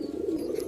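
A Madras pigeon coos once in a short, low, close call.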